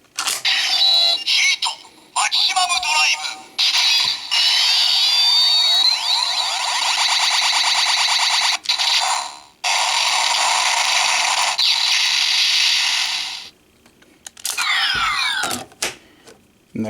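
A DX Double Driver toy transformation belt plays its electronic sound effects: loud, bright synthesized tones and sweeping chirps in several bursts separated by short silences, with clicks between them.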